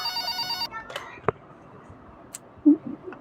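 A telephone rings with a bright electronic trill in a hospital setting, cut off after under a second, followed by small handling clicks and a brief murmur.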